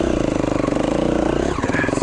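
A KTM 350XC-F four-stroke dirt bike engine revs steadily while riding in sand on an enduro ride, a close, loud, continuous throbbing note that shifts pitch near the end.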